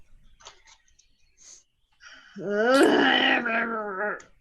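A human voice imitates the growl of a saber-toothed cat during a tabletop fantasy game, starting with a few soft breathy sounds and then swelling into a loud, rough, sustained snarl lasting about two seconds.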